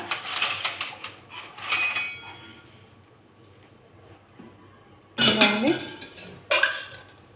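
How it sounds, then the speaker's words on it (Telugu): A big metal ladle clatters and scrapes against a cooking pot in two bursts of clanks, followed by a quiet pause and then two more sharp clattering bursts, close and fairly loud, while drumstick curry is prepared. "గరిటె, పెద్ద గరిటె అండి ఇది"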